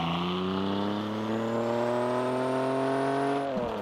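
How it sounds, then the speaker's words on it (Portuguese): A car engine in Car Parking Multiplayer revs steadily upward in pitch, droning loudly before a brief dip near the end. "Vamos acelerar."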